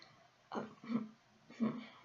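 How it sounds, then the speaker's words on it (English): Two soft, quiet coughs or throat clears, one after another with a short pause between, close and subdued. "Plutarch gives a discreet cough."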